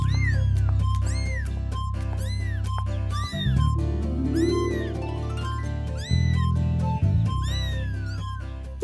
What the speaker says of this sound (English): What's in here? Huh? It's a kitten.